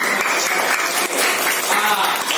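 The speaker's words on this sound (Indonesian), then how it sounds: "Tepuk tangan dulu." A small group of people clap their hands together, close by and somewhat uneven, with a few distinct claps standing out from the general patter.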